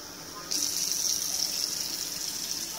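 Water pours and gushes steadily into a homemade volcano model, starting abruptly after a half second of quiet and continuing as a bright, even splashing stream to the end.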